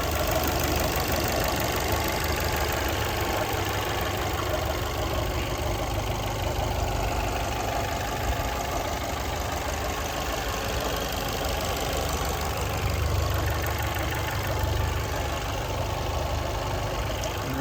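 A Fiat Tipo (WO17 ZHP) with its bonnet up idles steadily and loudly close by, a constant even engine hum and rattle that holds for the whole stretch with no talking.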